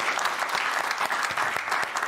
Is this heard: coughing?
no